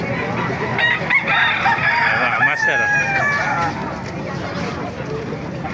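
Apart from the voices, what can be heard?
roosters crowing and chickens clucking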